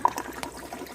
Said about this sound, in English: That'll be the final gurgle you hear up there